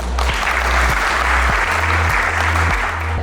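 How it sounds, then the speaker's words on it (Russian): Audience at the premiere of the web series "Dom" ("Trap") by Asia-Plus applauds at the end of the first episode, a steady, loud wash of clapping that fills the room throughout, with a low hum underneath. "Завершение первой серии зрители встретили овациями"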